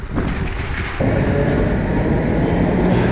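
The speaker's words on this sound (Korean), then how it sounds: "지금 옆에는 또 까만색 트램 지나가네요" A black tram passes close by on a Milan street beside the Martesana canal, its heavy rumble suddenly swelling and holding as a loud, steady roar.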